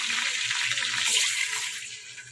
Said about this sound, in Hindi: अब मैं इसमें पानी ऐड करूँगी